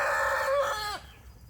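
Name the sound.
rooster crowing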